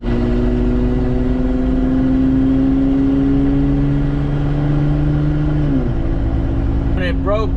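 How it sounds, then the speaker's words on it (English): An 80 Series Toyota Land Cruiser idling with its exhaust broken in the middle and the muffler gone, giving a loud, steady droning rumble throughout; the pitch dips near the end and a brief voice enters at the close. "it's basically basically a catback exhaust right now, and it's loud and it has a horrible drone"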